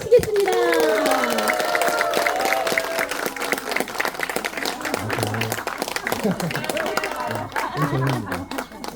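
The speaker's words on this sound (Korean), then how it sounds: "홍정호 변호사님을 뜨거운 박수로 모시겠습니다" A crowd claps warmly to welcome a lawyer at a support-day gathering of a nature conservation group in Wanju, steady applause over murmuring chatter and speech, with a voice coming through over the clapping.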